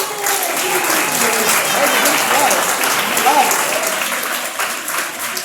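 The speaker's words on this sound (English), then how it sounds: "Give all my parents a round of applause." Applause from a parent audience at a university chemistry science show in Durban, South Africa: steady, dense clapping fills the whole stretch at full volume, with faint voices and a few whoops mixed in.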